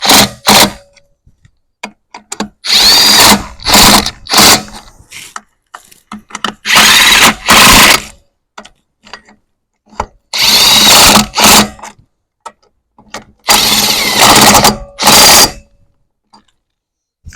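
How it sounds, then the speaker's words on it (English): A Makita XGT 40V GWT01Z 3/4-inch impact wrench on a low speed setting tightens wheel bolts in repeated loud, close bursts of rapid hammering, separated by short pauses and small clicks. "Put this down to speed 2 here to put these back on so I don't over torque them."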